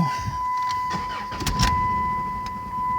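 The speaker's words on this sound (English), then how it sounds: "I'm start the engine so you can see how the engine acting up." A 2004 Dodge Stratus engine with a bad PCM turns over and runs unevenly, firing on only two cylinders, with a steady hum and irregular sputtering bursts, recorded close by.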